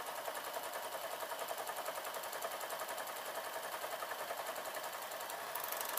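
A sewing machine stitches the underarm seam of a t-shirt, its needle running in a fast, even mechanical rattle that holds steady for the whole stretch, faint and without pauses.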